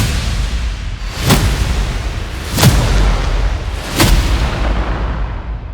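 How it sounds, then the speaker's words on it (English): Three whoosh hit impacts from the Zenith cinematic sound-effect instrument, each a sharp rising swoosh ending in a bright, booming hit, spaced about 1.3 seconds apart over a low rumbling bed. "let's check out the next instrument, which is the infamous Whoosh Hits."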